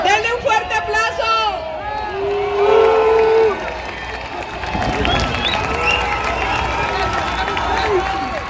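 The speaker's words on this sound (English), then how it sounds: "Denle un fuerte aplauso." Crowd at a Saturday night Día de los Muertos celebration in Manhattan applauds and cheers after a live band's set, a loud sustained roar mixed with babble and voices over amplified sound.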